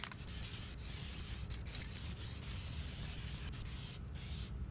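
A continuous hissing spray from a spray paint can runs nearly unbroken, close and fairly loud, with a few brief pauses near the end.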